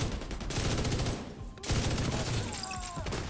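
Gunfire in a shooter video game rattles off in rapid, dense bursts with a brief pause, loud and continuous against the game's background sound.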